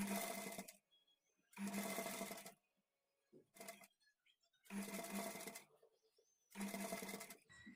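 A sewing machine stitches invisible thread piping along lining cloth edges, whirring in five short, fairly close runs with silent pauses between them.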